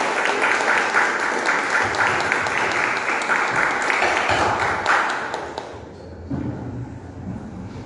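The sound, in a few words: congregation applauding in church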